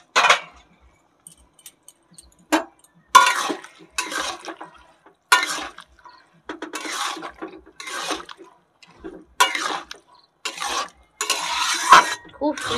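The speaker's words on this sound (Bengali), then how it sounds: "এবার সুন্দর করে নেড়ে নেব।" Egg tadka curry with salt and turmeric being stirred in a pan, giving intermittent scraping and clinking bursts of utensil against metal, close and fairly loud, separated by short pauses.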